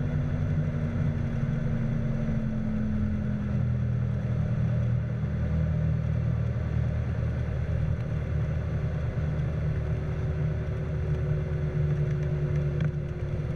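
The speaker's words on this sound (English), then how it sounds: "Over the end of the runway, reduce power to idle and slowly raise the nose." Steady low rumble of a small plane's engine idling as it comes in to land, a continuous drone with a slowly shifting pitch and no voices.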